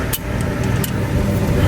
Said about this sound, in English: I'm sorry for the lawnmower